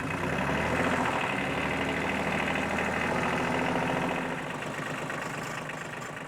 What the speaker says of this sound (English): now we just have to lift it up with your little tractor